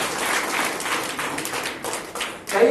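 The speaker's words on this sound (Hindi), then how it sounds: "उस महान जीवित परमेश्वर के लिए एक बार जोर से हम तालियां बजाएं।" A church congregation claps together in praise, a dense, steady patter of many hands filling the room for a few seconds with no speech over it.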